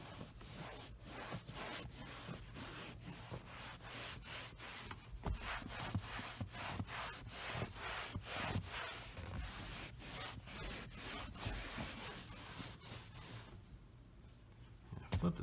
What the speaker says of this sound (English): you can see with my microfiber cloth here and work around the seats